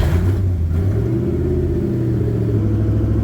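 A Corvette ZR1 engine with a salt-water-flooded $10,000 motor runs steadily close by, a deep continuous rumble that rises in pitch as it revs through a gear change, with no voices.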